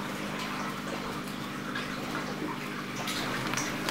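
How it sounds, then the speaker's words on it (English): Water runs steadily from a hose into a large seven-foot fish tank, a continuous broadband splashing rush that stays even and close throughout, with no talking. "Once the water level on the 7-foot goes up to another 1 or 2 more centimeters, I'll start turning the hose off."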